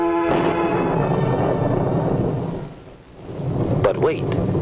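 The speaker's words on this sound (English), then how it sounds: "But wait, it's starting to rain." Thunder rolls loudly over a steady hiss of heavy rain in a 1954 film soundtrack, easing briefly in the middle before swelling again, with a faint voice near the end.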